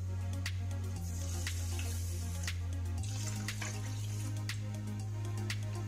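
Water streams steadily from a tap into a small pot of rice, a continuous running pour with a deepening gurgle partway through as the pot fills.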